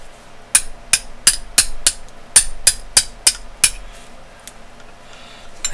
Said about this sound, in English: I'll grab my 1/16 inch and tap it out the rest of the way